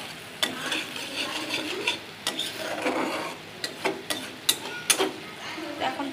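Pre-boiled fish stirred in a pan with a utensil, giving irregular scraping and clinking strokes over a low background sizzle, close by, with sharp metallic taps toward the end.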